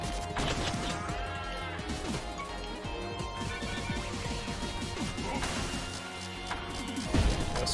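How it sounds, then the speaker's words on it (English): The cow air strike attack in the video game Pizza Tower sets off a chaotic barrage of crashes, whacks and bleating cow-like cries over busy game music, with a heavy impact near the end. "You got the cow air strike or kill streak."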